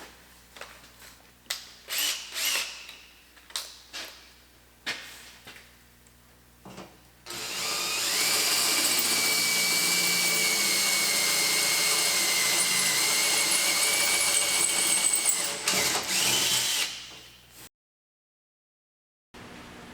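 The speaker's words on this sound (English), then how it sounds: "I'll drill a small hole for a pilot, make it a little bit easier drilling the next one." A power drill bores a small pilot hole during a DIY garden decoration build, running as a loud, steady whine for about ten seconds after a run of scattered handling knocks and clatter, then cutting off abruptly.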